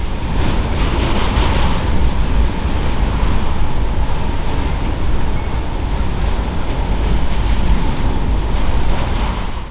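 A CSX freight train rolls into the Selkirk rail yard, a loud continuous low rumble and rushing roar of wheels and cars that stays close and steady throughout, with no voices.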